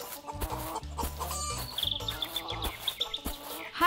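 Cartoon hens cluck in short, irregular bursts against a busy animated backdrop, with a high chirping trill running through the middle.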